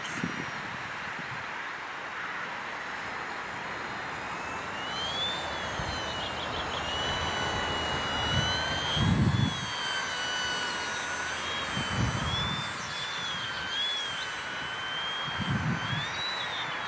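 DuraFly Tundra V2 RC plane flying with half flaps, its electric motor whining steadily and shifting pitch as it passes overhead, moderately loud over outdoor wind with occasional low gusts.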